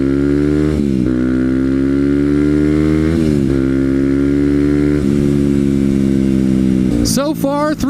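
Dual sport motorcycle engine running steadily while riding, a loud continuous mid-pitched drone with gear-shift dips and rev changes, under ongoing talk.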